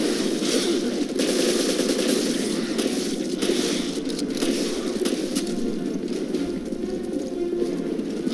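Rapid gunfire in the survival-horror video game Resident Evil Revelations, a loud, dense stream of shots running continuously alongside game ambience and bird-like cooing tones.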